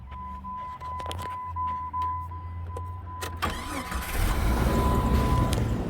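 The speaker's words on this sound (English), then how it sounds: "Let me start this thing back up" A 4.0 Jeep Grand Cherokee engine, suspected of a blown head gasket and overheating, is started: a quiet idle hum, then a sudden cranking burst that swells into a louder, rougher running roar.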